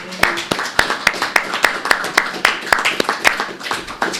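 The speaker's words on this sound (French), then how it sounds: "je pense que ça mérite une main d'applaudissement" A quick burst of hand clapping at a council meeting, sharp and fairly loud, with a steady rhythm of claps from a small group nearby.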